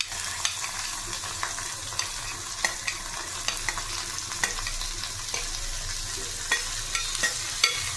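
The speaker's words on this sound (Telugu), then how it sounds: "తర్వాత అల్లం వెల్లుల్లి పేస్ట్ కొంచెం వేగిన తర్వాత కొంచెం ఒక 5 సెకండ్లు అట్లా వేగిన తర్వాత క్యారెట్ వేసుకోవాలి." Ginger garlic paste sizzling steadily in a hot pan for carrot curry, a continuous close fry with occasional light stirring clicks and no talk.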